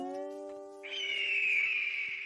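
A cartoon hawk's cry sound effect rings out as a long, high, drawn-out screech over a sustained twangy slide guitar note, loud and clear with no talking.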